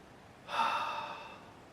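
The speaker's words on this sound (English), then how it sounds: "Deep breath." A single deep breath taken in and slowly let out, close and clear, swelling then fading over about a second with no talk around it.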